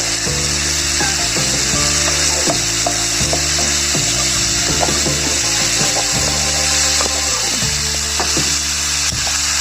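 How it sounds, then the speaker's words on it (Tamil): Mushrooms sautéing in a pan for Chettinad mushroom gravy, a steady loud sizzle running throughout with repeated scraping and stirring clatter of a utensil against the pan. "காளான் பாருங்க, நல்லா வதங்கிட்டு"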